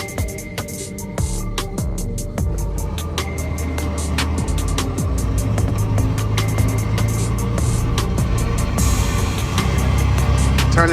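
A lowered BMW E90 sedan riding slammed on wheel spacers drives along, with steady road and engine noise throughout, broadband rattles and thumps over bumps, and a loud, continuous interior rumble.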